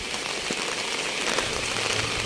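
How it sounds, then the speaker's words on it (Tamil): Steady rain falls at the start of the rainy season in Jaffna during Navaratri, a dense, even hiss of drops with faint crackles, close and continuous throughout with no talk. "கொஞ்சம் மழை கூட தான் பெய்திருக்கு"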